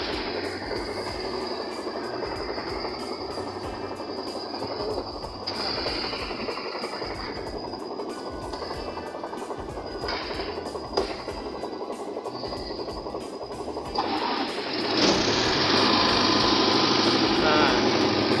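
A generator engine drones steadily and loudly throughout, with a broad mechanical roar that shifts in tone midway and swells slightly louder and brighter toward the end as it settles into running.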